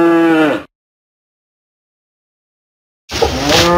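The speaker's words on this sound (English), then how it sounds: "Cow." A cow gives two loud, close moos, one short low call at the start and another rising at the end, with a long stretch of silence between them.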